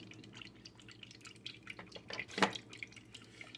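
Oil dripping and trickling onto raw meat being prepared for smoked barbecue, soft irregular drips building to a brief louder splash, then settling back to faint patters.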